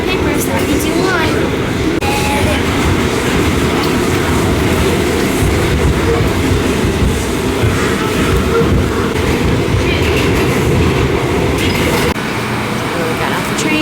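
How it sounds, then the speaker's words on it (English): Steady low rumble of a train rolling along rails into New York's Moynihan Train Hall, loud and continuous, with faint rattling on top and muffled voices in the background. "We got off the train."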